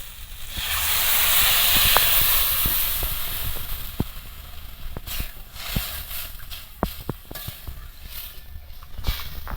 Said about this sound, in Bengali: জল দিয়ে আর একটু কষিয়ে নিতে এবার জল দিয়ে দেবো